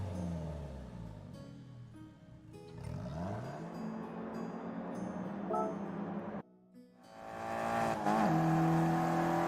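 A Jaguar car starts and drives in a racing video game, its engine droning and rising in sweeping revs that climb and fall through gear changes, steady and fairly loud over constant background tones.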